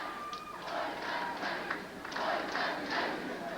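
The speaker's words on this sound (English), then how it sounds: "the Potsdam crowd picks up a chant of 47 seconds" A Potsdam State basketball crowd chants in rhythmic repeated bursts at the 1986 NCAA Division III championship, a steady roar of many voices filling a large arena.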